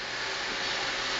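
An iRobot robot vacuum cleaner runs with a steady, broad whirring hum, close and continuous for a brief moment.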